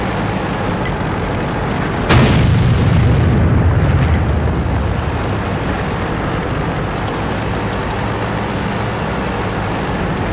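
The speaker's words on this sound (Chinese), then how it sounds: "你看火炮炸了一下，还好没炸到他" An artillery shell explodes in the tank game World of Tanks: one sudden, sharp blast followed by a low rumble that fades over a couple of seconds, then steady background noise.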